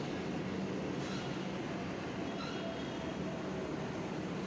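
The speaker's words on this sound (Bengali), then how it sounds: "ট্রেন যাচ্ছিল" A metro train rolls through a station, a steady low rumble and roar of wheels on rails that fills the space, with faint surrounding station ambience.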